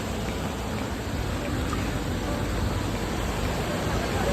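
A monsoon waterfall on the Kalu waterfall trek in the Sahyadri hills: a dense, steady roar of rushing water that fills the whole clip with no breaks. No voices are heard.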